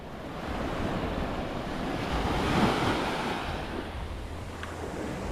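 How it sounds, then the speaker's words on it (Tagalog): Sea waves wash steadily near the shore, a continuous broad surf roar with gentle swells, mixed with wind noise on the microphone and no talk. "Ganda ng dagat."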